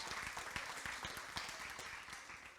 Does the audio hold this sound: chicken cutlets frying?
no